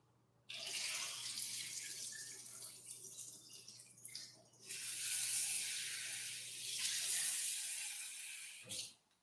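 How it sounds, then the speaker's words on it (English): Tap water runs hard into a sink or pot while murky rice rinse water is drained and fresh water added, a close splashing rush in two long bursts with a short break between, ending with a few drips and clunks. "so I just drained the murky water. Now I put fresh water in."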